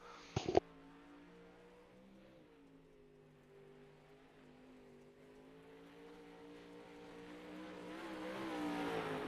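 A race car runs a lap at a night drag-racing event, its engine a faint, distant droning whine that slowly swells louder, after a brief sharp knock at the start.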